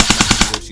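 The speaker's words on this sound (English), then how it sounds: "let's go for an auto. And the one thing I will say, this gun's got some recoil" A Specna Arms SA-A03 airsoft M4, a red Core Series custom edition, fires full auto in a close, loud, rapid burst of about five evenly spaced shots that stops abruptly.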